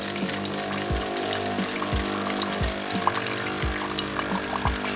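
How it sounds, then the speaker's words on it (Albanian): A Philips LatteGo coffee machine pumps water out during its AquaClean cycle, a steady close stream of pouring liquid over a humming pump that pulses in regular beats about once per second. "Në nisë qëto ujë më dalë."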